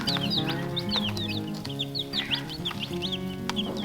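Day-old baby chicks cheep constantly in high, rapid peeps over a low farmyard hum, close and continuous, with no talking.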